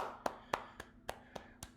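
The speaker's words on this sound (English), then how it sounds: "There's your deafening clap right there" Sparse handclaps ring out alone, six sharp, evenly spaced claps at a steady rhythm, close and moderately loud over a faint background hum.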